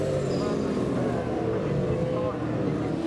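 V8 Supercars roar together on the run to the finish line in a rain-interrupted second race of a 1999 Shell Championship Series round, a loud, continuous engine howl with speech partly over it.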